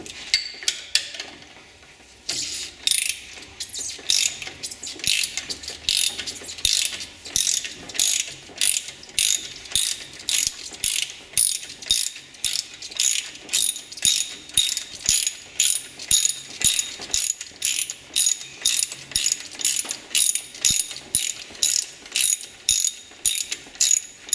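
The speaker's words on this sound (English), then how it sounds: "take out the main support bolt" A ratchet wrench backs out the main support bolt of an alternator on a custom classic car, giving a long run of rapid, evenly spaced metallic clicks, close and clear, with no voices.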